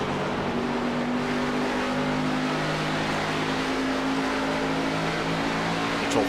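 A race car engine in the iRacing sim at Homestead-Miami drones steadily as the throttle is held, a continuous even roar with no talk over it.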